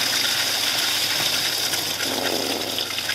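Steady broadband rush of flowing water, continuous and fairly loud, with no voices.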